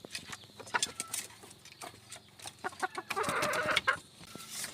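Hen clucking in a rural Filipino gamefowl setting, a run of short close clucks and cackles with a busier burst of calls near the end, no talk.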